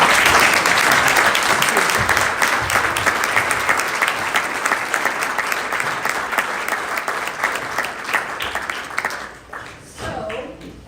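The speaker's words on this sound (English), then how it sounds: "Please, can you now give everybody a round of applause?" Sustained crowd applause at an awards ceremony honoring medalists for animal bravery, dense steady clapping for about nine seconds before thinning out near the end.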